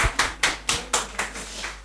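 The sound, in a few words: audience applause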